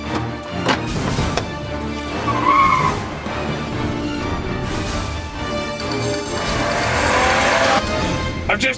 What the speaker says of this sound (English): I've just taken Mr. Westberg's car